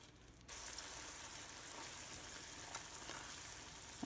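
Heavy cream poured into melted butter in a hot pan sets off a sudden steady bubbling sizzle that carries on evenly after a quiet start.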